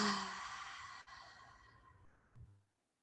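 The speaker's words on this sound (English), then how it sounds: "take a nice deep breath together in and out of the belly. And exhale to release." One slow, deep breath sighs out audibly and fades, followed by a soft short breath near the end; close and quiet in a calm setting.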